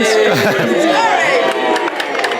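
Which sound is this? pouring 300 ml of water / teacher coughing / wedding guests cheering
wedding guests cheering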